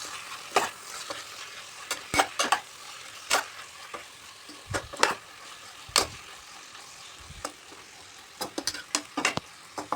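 Tomatoes stirred into a jackfruit curry in a pan, a spoon scraping and knocking in irregular bursts over a low sizzle, with sharp clacks scattered through the stretch and no talk.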